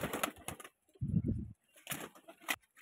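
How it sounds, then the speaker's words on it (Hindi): High-flying pigeons kept in a loft, heard nearby as a short, low, throaty coo in the middle, framed by scattered light rustles and flutters. "ये सारे कबूतर ऊपर चले गए"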